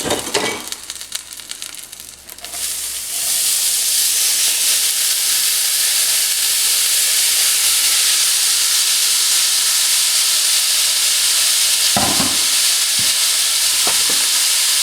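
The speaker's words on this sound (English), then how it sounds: "Now we are going to add our vegetables." Vegetables hit a hot pan for shredded beef tacos, giving a loud, steady sizzle and hiss that rises after a few seconds and holds, with a few brief clinks of stirring near the end.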